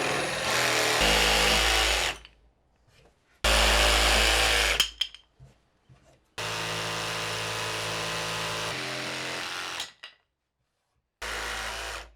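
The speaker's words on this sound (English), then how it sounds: "using my belt sander and router to soften the edges" A belt sander and a router round over the edges of a wooden handle for a DIY extension cord reel in a workshop. Loud whining bursts of two to three seconds each are separated by short pauses, with no talking.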